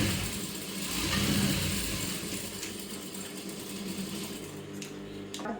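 A sewing machine stitches two layers of fabric together in a continuous, close mechanical whir that runs the whole time at a steady pace.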